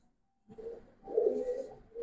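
After a moment of quiet, Giribaz pigeons, coloured and silver birds in a loft, give low throaty coos in two soft rounds nearby, with no talking.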